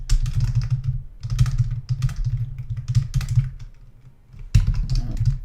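A computer keyboard that is acting up, typed on in rapid close bursts of clacking keys with short pauses, loud and with no talking.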